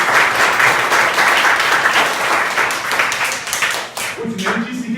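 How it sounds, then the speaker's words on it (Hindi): Schoolchildren at a public school in Azamgarh, Uttar Pradesh clap loudly together, a dense sustained burst of applause that fills the room throughout, with a low voice briefly emerging near the end. "इनके लिए जोरदार ताली बजाओ।"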